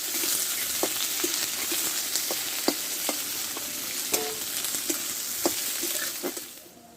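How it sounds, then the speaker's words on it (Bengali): Coarsely chopped onion fries in hot oil with whole cumin seeds, a steady bright sizzle broken by repeated scraping stir clicks, alone with no talk, fading at the end. "এখানে মোটা সাইজে একটা পেঁয়াজ কেটে নিয়েছি এটা আমি দিয়ে দেবো পেঁয়াজটা ভালোভাবে আমি ভেজে নেবো"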